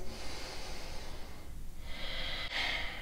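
A slow, deep breath drawn in and let out during a power yoga stretch, a steady airy rush lasting a few seconds, close and breathy, with a brief sharper snort-like exhale near the end.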